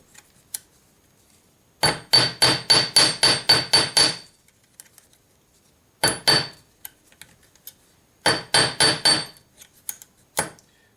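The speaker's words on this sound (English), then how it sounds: "I'm just going to hammer a gradual taper." Metal ring shank being hammered into a gradual taper in jewelry work, three quick bursts of sharp ringing metallic strikes, about eight to ten blows each, close and loud with pauses between.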